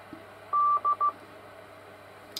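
Three sharp DTMF keypad tones sent from a Yaesu FT-857D amateur radio to access a repeater, one longer beep followed by two short ones, clear and steady over a faint low hum.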